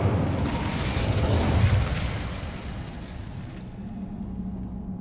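An Incendio fire spell is cast in the Hogwarts Legacy video game, a whooshing, roaring burst of flame that swells, then fades into a lower rumble.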